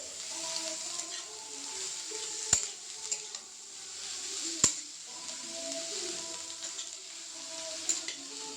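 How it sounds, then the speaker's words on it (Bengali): Shredded cabbage and peas being stirred in a frying pan for home-made chowmein, a steady soft sizzle with scraping utensil strokes and a few sharp clinks against the pan, no talk. "এটা আমি ভালো করে এবারে মিশিয়ে নিচ্ছি।"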